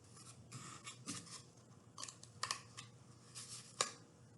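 Quiet crunching snips of scissors cutting through a cardboard toilet paper tube, several uneven cuts with short pauses between, close by and faint.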